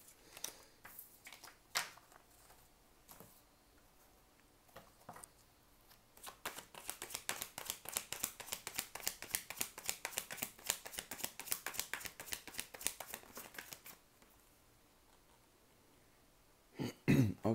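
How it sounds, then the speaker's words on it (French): A tarot deck gets shuffled by hand in a quiet room, starting with a few sparse riffles and then settling into a steady run of rapid card flicks that stops abruptly, with a soft thump at the end. "Après, je m'embrouille en mélangeant toutes les cartes."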